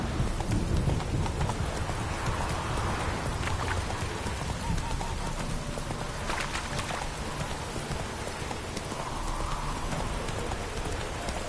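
Horse hooves clip-clop steadily in The Witcher 3 video game, a continuous trotting rhythm over a rain-like background hiss, with occasional faint voices.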